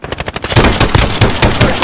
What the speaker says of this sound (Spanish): ¡Nos disparan!